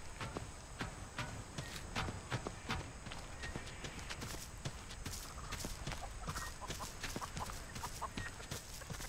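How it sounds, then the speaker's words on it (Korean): A chicken clucks in The Texas Chain Saw Massacre video game, its short, sharp clucks repeating steadily over a dense, busy game soundscape with some rhythmic tapping. "닭이 꼬꼬택하거든요"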